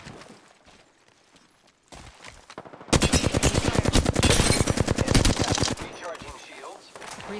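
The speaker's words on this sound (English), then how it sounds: "Taking fire, friends." Gunfire in Apex Legends: after a quiet stretch, a loud, rapid automatic burst rattles for about three seconds, then drops back to softer background game noise.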